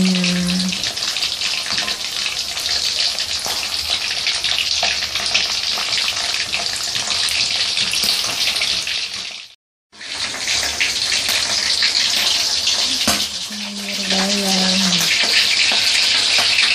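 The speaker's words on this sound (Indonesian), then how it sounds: "Ini ayam filet mau digoreng buat makan lagi temenin kentang" Chicken fillet frying in hot oil, a loud, constant bubbling sizzle that cuts out briefly midway, with faint low voices now and then underneath.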